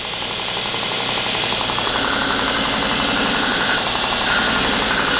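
A surface grinding machine runs steadily while working a part, a loud continuous mechanical whir and hiss with a faint rapid knocking texture underneath, holding even throughout with no talking.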